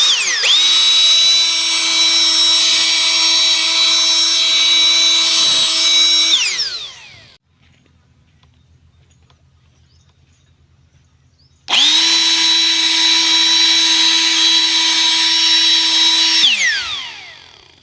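High-power electric air blower clearing debris, a loud steady motor whine running for about six seconds, cutting out to near silence, then roaring again for another five seconds before winding down.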